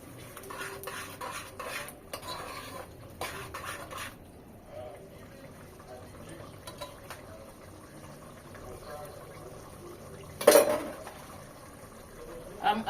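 A pot of Nigerian yam porridge (asaro) stirred as yam is added, with soft intermittent scraping and clinking of a utensil against the pot and a louder clatter near the end, fairly close and moderately quiet.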